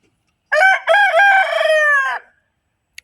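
A rooster gives one loud, close crow, followed by silence.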